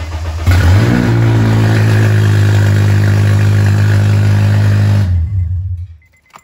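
A 2004 Honda car with its catalytic converter stolen starts and runs, producing a loud, raw, droning engine roar that holds steady for several seconds before cutting off abruptly.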